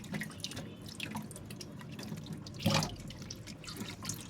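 Tap water runs and splashes over a frozen mullet as it is washed by hand, a steady soft trickle with one brief louder splash, close and quiet, no talking.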